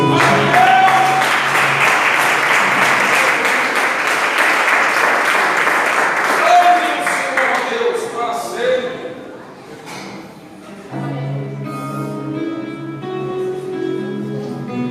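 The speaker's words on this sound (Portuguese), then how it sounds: "Aplauda o Senhor" A church congregation applauds and cheers to praise the Lord during a Friday worship service, a loud, dense wash of clapping with musical tones and voices mixed in, easing after about nine seconds as music and voices carry on.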